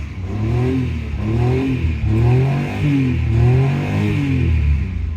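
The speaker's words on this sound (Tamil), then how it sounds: "எப்படி இருக்கு பாருங்கள் இன்ஜின் ஓடுறது உங்களுக்கு சத்தம் கேட்குதா" A Maruti 800 small car engine idles steadily and close by with a smooth, even hum and a faint rhythmic pulse, with no voices over it.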